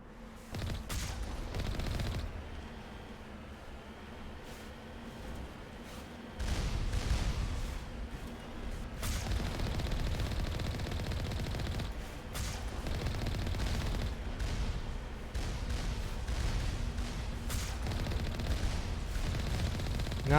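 Gunfire shooting at Alliance heavy turrets in the video game Mass Effect 1, with bursts of rapid shots and sharp blasts arriving in clusters over a sustained low rumble of combat.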